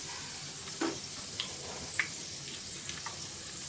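Cumin and fenugreek seeds fry in hot oil with a steady, soft, close sizzle, dotted with a few small pops and light stirring ticks.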